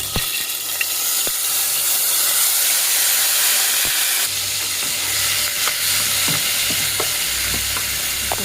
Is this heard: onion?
yes